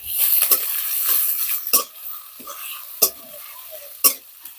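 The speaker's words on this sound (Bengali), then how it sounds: "পেঁয়াজটা ভাজা হয়ে হালকা একটু নরম হয়ে আসছে।" Chopped onion and green chili fry in oil in a wok after minced garlic, with a steady soft sizzle and several sharp scraping stirs of a spatula against the metal, close and alone.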